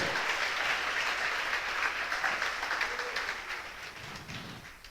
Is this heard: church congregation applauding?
yes